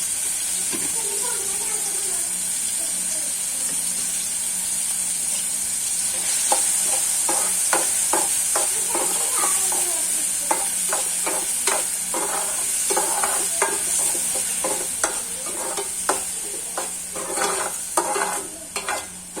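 Chopped tomatoes cook with salt in a pan over a medium flame, a steady frying sizzle and hiss running throughout, joined partway by repeated scraping clicks of a spoon stirring against the pan.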